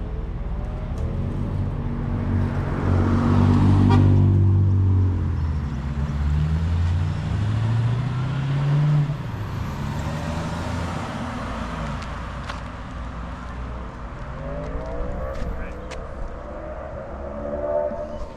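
A Chevrolet SS car pulls away, a steady engine rumble with a rising and falling tone, loudest early on and then fading into general road and traffic noise, no talking.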